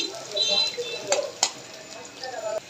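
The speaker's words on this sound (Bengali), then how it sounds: "পেঁয়াজ রসুন আর শুকনো মরিচগুলো ভালো করে ভেজে নিব।" Onion, garlic and dried chillies fry in a pan with a quiet hiss, broken by a few stirring scrapes and light clinks of a spoon against the metal.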